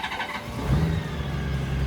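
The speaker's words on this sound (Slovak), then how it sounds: "takže ideme naštartovať, lebo olej sa nám musí trošičku zohriať" A big Honda Goldwing trike engine cranks and catches, then settles into a steady low idle rumble, close and fairly loud with no talking.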